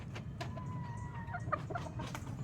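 A Boston Roundhead hen in a breeding pen gives soft, scattered clucks and short calls, fairly faint against a low background hum, with no voices.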